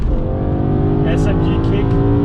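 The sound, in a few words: car engine downshifting to second gear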